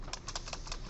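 Quick keystrokes on a computer keyboard, about five light, rapid taps in under a second, quiet and close, with no talking.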